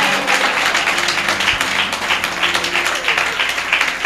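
A church congregation claps in praise of the Lord, a sustained burst of dense, lively applause filling the room from start to finish.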